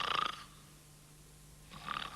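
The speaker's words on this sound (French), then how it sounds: "Naturellement, il ronflait." Someone sleeping in bed snores: two loud, rasping snore breaths at close range with a quiet pause between them, and no talking.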